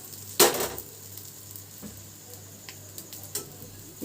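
Potato sandwich frying in butter on a hot tawa, a soft steady sizzle with a sharp crackling burst near the start and a few light ticks and scrapes after.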